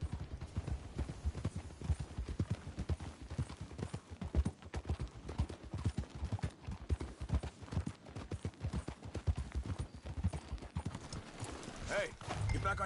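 Horse hooves clip-clop in a steady rhythm through the Red Dead Redemption 2 video game, close and prominent for the whole stretch, with people talking over the hoofbeats.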